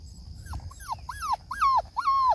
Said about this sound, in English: Oh, Biscuit's got some puppies with him.